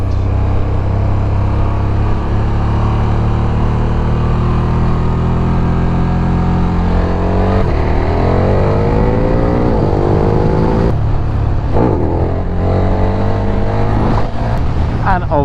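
A KTM 1290 Super Duke GT motorcycle engine roars loudly and continuously while riding, with rising revs in several surges as the throttle opens, under steady wind rush.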